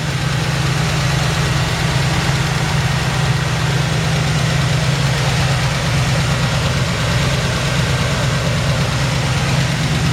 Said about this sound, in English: Probably could stand to turn the idle down just a little. Sounds a little high.